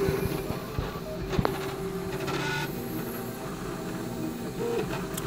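A CTC 3D printer runs a test print, its stepper motors whirring and buzzing in a steady mechanical drone with brief clicks, close and continuous.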